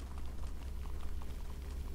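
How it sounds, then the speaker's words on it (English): Soft, steady splashing and bubbling water from indoor fountains in Minecraft Story Mode, a quiet continuous patter without pauses. "There's a lot of fountains."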